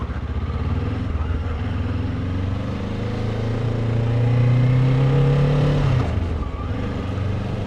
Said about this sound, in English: Getting fed up with that traffic.